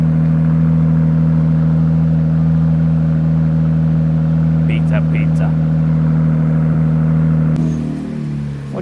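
A 2026 Ram RHO pickup truck with a newly fitted exhaust holds a loud, steady, deep engine rumble close by, easing off slightly near the end as someone speaks briefly.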